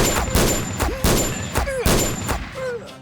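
Gunshot sound effects in a Tamil audio drama, three loud, sharp blasts about half a second apart, each trailing into a short echo and whooshing tail.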